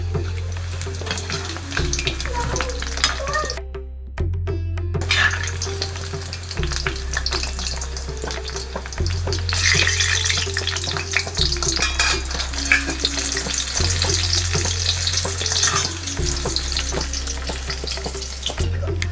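Medu pakoda deep frying in hot oil, street style, with a continuous crackling sizzle and occasional scraping as the fritters are turned, a low rhythmic hum running beneath.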